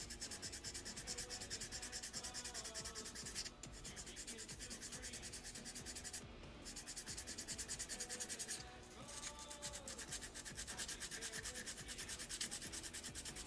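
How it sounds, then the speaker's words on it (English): Fine hand sanding on a prop, a continuous close scratchy rubbing with steady back-and-forth strokes and two brief pauses. "A lot of very fine sanding on this prop."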